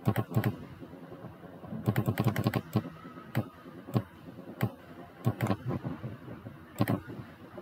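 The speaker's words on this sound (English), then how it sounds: "Simply type this character code and click on insert." Typing a character code on a computer keyboard, sharp close keystrokes in short clustered bursts separated by pauses, with a few isolated clicks and no speech.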